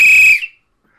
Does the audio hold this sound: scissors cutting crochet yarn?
no